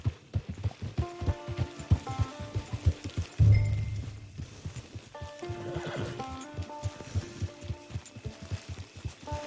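A horse in Red Dead Redemption 2 whinnies loudly close by, amid a steady rhythm of hoof clip-clops and a soft musical score, with a heavy thump partway through and no speech.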